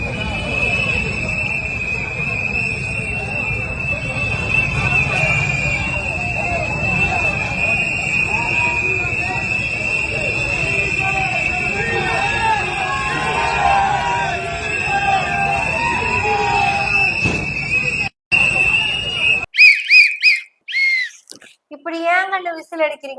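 A large crowd of political party supporters whistles loudly and continuously at passing buses, a shrill sustained din with crowd noise underneath, broken off near the end by a few words from a man.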